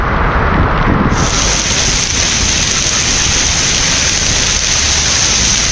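Heavy rain pours over suburban areas in a loud, steady, dense hiss that holds unbroken throughout, with no voices.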